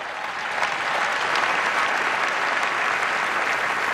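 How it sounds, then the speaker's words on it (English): An audience at the 2016 NAACP Image Awards ceremony claps in a dense, steady wash of applause. It swells after a quieter first half-second and then holds strong throughout, with no clear speech over it. "Round of applause for that."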